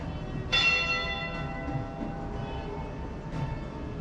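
A memorial bell at the Great Lakes Shipwreck Museum in Michigan rings once with a bright, ringing strike that decays slowly, then a second softer toll follows about three seconds later over low background rumble.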